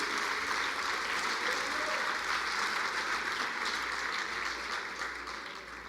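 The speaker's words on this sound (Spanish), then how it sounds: "vamos a darle un aplauso a Rodrigo" Congregation at a Sunday church service applauding a member named Rodrigo, a full, even roar of many clapping hands that holds steady and then tapers slightly at the close.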